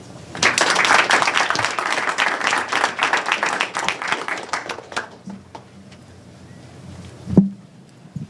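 Applause for students at a school board meeting fills a room with steady, dense clapping for about five seconds, then quickly dies away into quiet room noise with a single louder knock near the end.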